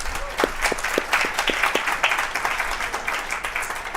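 A crowd at a campus celebration gives a round of applause for a national-ranked athletics team, steady dense clapping throughout the few seconds with a few louder distinct claps near the start.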